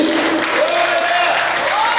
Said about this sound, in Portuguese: Você pode dar um aplauso para o Senhor bem alto aí, bem forte